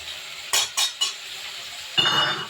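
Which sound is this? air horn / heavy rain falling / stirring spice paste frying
stirring spice paste frying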